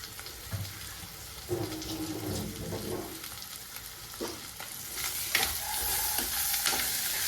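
Fish frying in a pan of tempering spices gives a continuous close sizzle, broken by clattering stirs of a utensil and a few brief watery splashes, moderately quiet with no talking.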